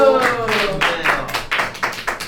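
A small group clapping during an idol group's meeting to name their fan light stick: a quick run of about eight sharp, rhythmic claps close to the microphone, with a voice briefly heard at the start.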